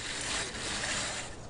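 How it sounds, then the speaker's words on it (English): Metal tape measure being pulled open and retracted as a user-interface sound in the Prison Architect game, a continuous ratcheting, whirring mechanical rattle lasting under two seconds, close and fairly steady in level. "what you're hearing is the sound of a metal tape measure"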